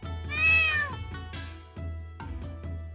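A cat meows several times in quick succession, close and clear, with rising and falling wavering calls and short pauses between them.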